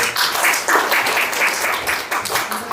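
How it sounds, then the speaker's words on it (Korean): Audience applause at a public debate forum in Busan, many hands clapping steadily in a hall, moderately loud and continuous with no voice over it. "박수만 해주십시오"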